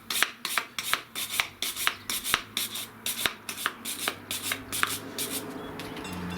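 Rust being cleaned off a Classic Mini track rod with brisk back-and-forth scrubbing strokes, heard as a steady rhythmic rasp of about two strokes per second, close and moderately loud, with no talking.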